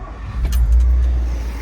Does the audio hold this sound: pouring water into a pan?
no